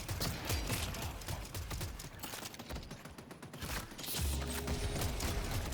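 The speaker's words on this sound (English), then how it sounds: "Lot of shooting in this one." Rapid gunfire in the shooter game Deadlock, dense strings of sharp shots rattling through most of the stretch, thinning briefly in the middle before resuming, fairly quiet overall with no talk.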